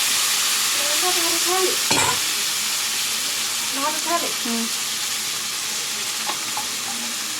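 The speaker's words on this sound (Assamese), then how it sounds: "মাংসটো দি দিয়া হৈছে এতিয়া।" Meat sizzles steadily in a hot pan, a loud close frying hiss running throughout with occasional stirring clatter and scrapes.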